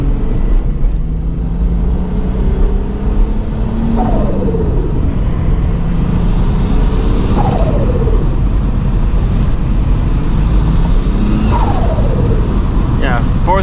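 A turbocharged VW MK3 VR6 Variant drives under boost, its engine droning loud and steady, with three rising surges that each fall away abruptly as the revs drop back, while people talk inside the car.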